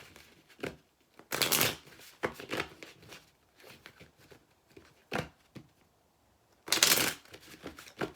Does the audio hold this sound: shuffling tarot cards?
yes